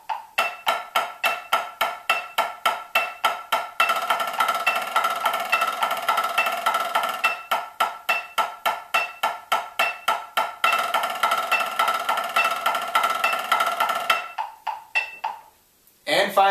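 Snare drum buzz rolls played in triplets at 70 bpm, a steady pulsing run of crisp strokes and sustained press-roll buzzes, close and loud with no voices, stopping briefly near the end.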